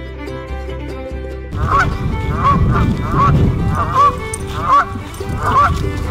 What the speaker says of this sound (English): See the geese, Missoula?